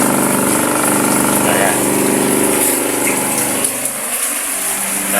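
Twin tub washing machine motor spinning after a repair, a steady close mechanical hum with a faint whine throughout, briefly dipping near the end, with someone speaking over it.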